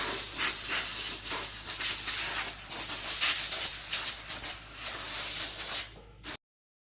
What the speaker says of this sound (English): we're gonna blow off the motor and see what happens